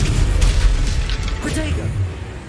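A Descendo spell slams down in Hogwarts Legacy, giving a heavy low boom and rumbling impact that fills the short stretch, with shouted voices in a busy fight mix.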